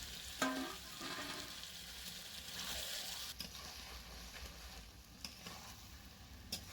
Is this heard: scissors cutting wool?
no